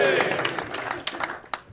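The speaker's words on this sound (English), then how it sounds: "Big cheer if you want to save Christian Nimitz." Crowd cheering at a socialism debate audience vote: a loud burst of massed voices and clapping that fades a little, then rises again with sharp individual shouts and claps near the end.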